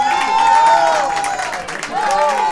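A studio audience claps and cheers for a guest, a lively mix of applause and crowd noise with a tonal music line running through it.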